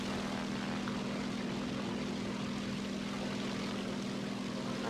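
A propeller fighter plane in flight in the video game War Thunder, its engine a steady continuous drone with a strong low hum held evenly throughout, alone without talk.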